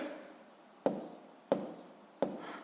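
Pen strokes on paper while an answer to a physics exercise is written down, three short distinct scratches spaced about two-thirds of a second apart, close and quiet, with no talking.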